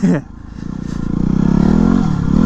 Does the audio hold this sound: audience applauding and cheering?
no